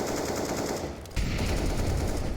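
Rapid automatic gunfire from Counter-Strike on the Vertigo map, bursts fired through walls during a professional Astralis vs G2 match, loud and continuous with a brief dip before the shooting resumes heavier.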